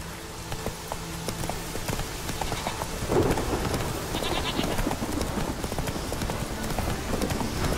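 Roach the horse gallops in The Witcher 3, rapid hoofbeats thudding under rain and ambient game noise, steady and mid-distance.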